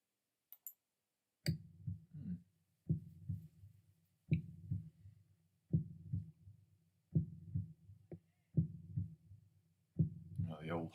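Heartbeat effect in a golf video game during a tense 9.9-foot putt: steady double thumps, low and fairly loud, repeating about every 1.4 seconds with no other sound between beats.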